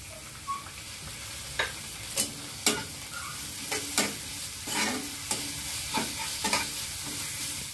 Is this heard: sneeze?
no